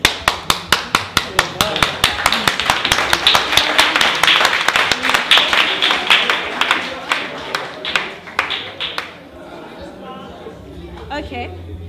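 Audience clapping at a DIY halfbread workshop in Khayelitsha: a burst of sharp, rhythmic group claps building into dense applause, then thinning out near the end, with voices chattering underneath.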